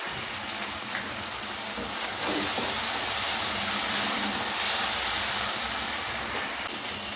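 Curry leaves crackle and sizzle in hot oil while sautéing for a mushroom gravy, a steady broad hiss that grows louder partway through and holds, close and continuous with no talk.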